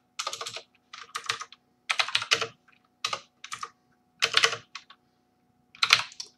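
Rapid bursts of typing on a computer keyboard while writing Java code, clustered clicky keystrokes separated by short pauses, close and crisp with a quiet background.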